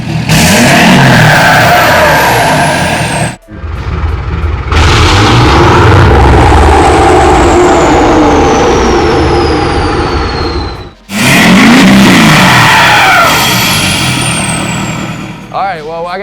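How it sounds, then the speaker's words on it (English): Loud diesel exhaust from a 2013 Ford F-350 with DPF and EGR delete and a No Limit intake, revving hard in repeated long pulls with brief drops to idle between, close up and alone. "we'll fire it up here real quick, kind of give you guys a little sneak peek of what the exhaust sounds like"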